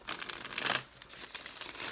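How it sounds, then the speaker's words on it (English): A deck of tarot cards is shuffled close by during a reading, giving dry, papery riffling and crinkling bursts that swell to a peak and then continue more softly. "All right, this will be our last shuffle, Gemini."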